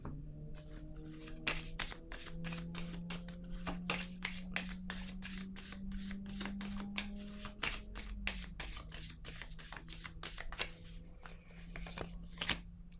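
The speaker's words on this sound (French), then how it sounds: "je vais déposer une autre carte" Playing cards shuffled and laid down on a table in a card reading, a rapid run of crisp close slaps and flicks over a steady low hum.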